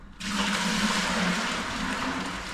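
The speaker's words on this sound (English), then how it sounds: "So now I've emptied my bucket, I'll wash it out while it's soft." Water gushes and swills loudly inside a plastic plastering bucket as it is rinsed out, a steady close splashing rush that begins abruptly and continues without a break.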